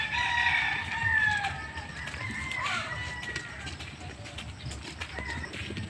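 Chickens and a rooster call at a chicken coop, with a crow early on and clucking over an outdoor rumble of footsteps, fairly close and continuous.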